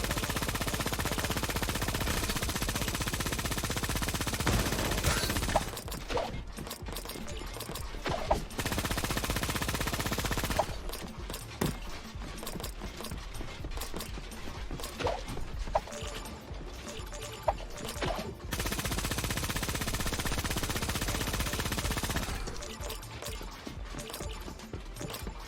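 An overpowered gun fires in Creative Destruction, unleashing long, rapid automatic bursts broken by short pauses, loud and close across the whole stretch.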